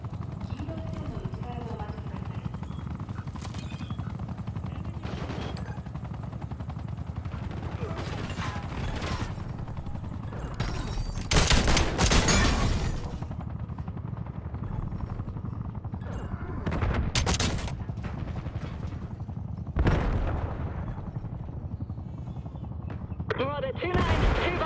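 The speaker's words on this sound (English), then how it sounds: "We're under sustained fire." Gunfire from the video game Call of Duty Black Ops 7 cracks in scattered sharp shots and short bursts over a constant rumbling helicopter-like drone, with radio-style voices talking throughout.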